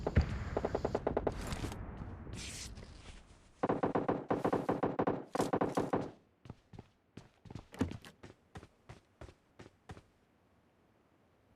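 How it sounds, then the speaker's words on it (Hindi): Gunfire in PUBG Lite crackles from the other side of the map: bursts of rapid shots early, then a string of sharp single cracks spaced apart, fading to quiet. "मुझे दूसरी तरफ से फायरिंग की आवाज़ आती है"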